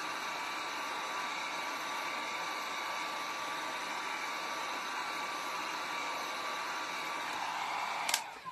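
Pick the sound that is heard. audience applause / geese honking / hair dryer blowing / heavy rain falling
hair dryer blowing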